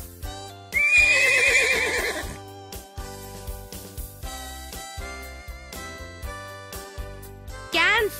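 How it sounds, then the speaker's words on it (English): A horse gives a loud, close whinny lasting about a second, followed by a second short neigh near the end, set against a bright tonal music background. "Horse"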